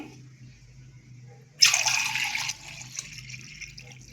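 Water rushes into a pressure cooker in a steady pour for about a second, then trails into a softer trickle and splash against a quiet background hum.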